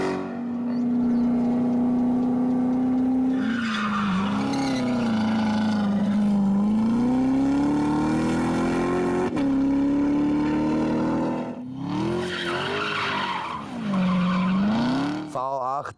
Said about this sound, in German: wenn du dir die V8 anhörst, wenn du die Corvette vorbeifahren siehst, kriegst du Gänsehaut